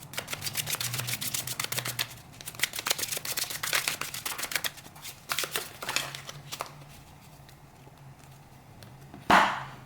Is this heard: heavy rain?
no